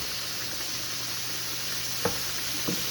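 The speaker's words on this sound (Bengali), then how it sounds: "পাশের চুলায় আমি বাটার দিয়ে একটু চিকেন আর লেটুস পাতা একসাথে ভেজে নিচ্ছি" Chicken pieces and lettuce leaves fry in butter in a pan, giving a steady, even sizzle with a couple of soft clinks from stirring near the end.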